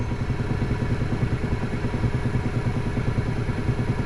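A wood lathe spinning a chestnut oak blank at around 500 RPM, giving a loud, continuous rhythmic rumble and clatter from the shaking workpiece.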